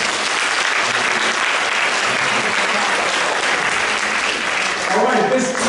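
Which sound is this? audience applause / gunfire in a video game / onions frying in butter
audience applause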